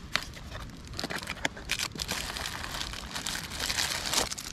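Plastic film packaging crinkling as a carrying bag for a DJI Mavic Mini drone is unpacked, a continuous close rustle with sharp crackles throughout.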